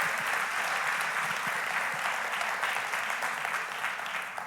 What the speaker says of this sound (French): Est-ce qu'on peut leur donner une main d'applaudissement?